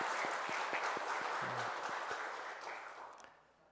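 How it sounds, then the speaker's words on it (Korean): A church congregation applauds guests at a Korean worship service, a dense even wash of clapping that fades out toward the end. "우리 박수 한번 드리겠습니다."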